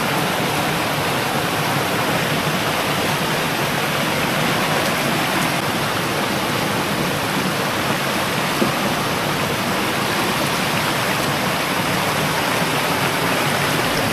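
Steady, dense rush of falling water, like a heavy stream pouring down, continuous and loud with no pauses.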